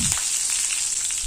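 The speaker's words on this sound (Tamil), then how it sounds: "இப்போ நல்லெண்ணெயில் கடுகு, உளுந்தம்பருப்பு, கருவேப்பிலை போட்டு தாளிச்சிக்கோங்க." Mustard seeds, urad dal and curry leaves hit hot sesame oil, giving a brief continuous sizzle and crackle, close and alone.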